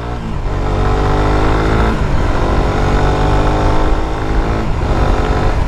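Premium dual-channel ABS motorcycle accelerating hard, a loud close engine roar with rising harmonic revs and gear changes, sustained throughout without talk.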